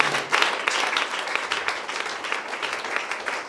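A congregation at a church seminar applauds and cheers for Jesus, a dense burst of clapping at moderate distance that holds steady for several seconds.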